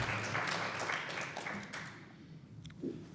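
Audience applause at a 2018 state senate district debate, a dense, steady clatter of many hands that thins and fades out over about two seconds before a brief faint thump.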